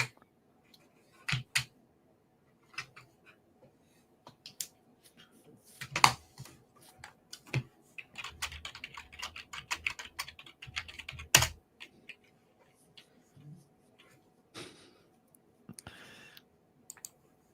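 Computer keyboard typing, bursts of sharp clicks and keystrokes scattered irregularly over quiet pauses, fairly close, with a denser flurry in the middle.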